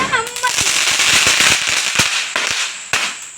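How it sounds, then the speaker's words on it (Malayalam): A rapid string of firecrackers pops and cracks loudly at close range, bursts coming in quick irregular succession. "പടക്കം പൊട്ടിക്കുന്ന ദിവസം"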